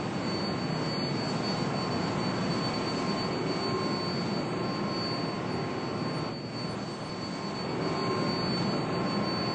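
An R188 New York City subway 7 local train runs between Times Square–42nd St and Queensboro Plaza, giving a steady, loud rumbling roar with a high whine throughout and no talk.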